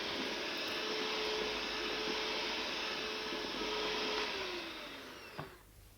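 An electric mixer whirs steadily while beating eggs, sugar, semolina and starch into cheesecake batter, a loud continuous motor drone with a faint tone that winds down and stops near the end, with a small clack after.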